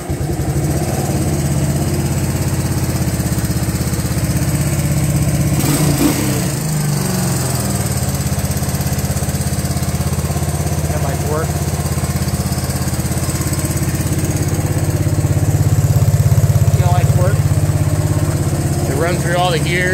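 Two 1985 Kawasaki Prairie 250 ATVs, barn finds that had been sitting for years, run with a steady, loud, buzzing engine drone close by, the pitch swelling slightly toward the end, while a person talks over it.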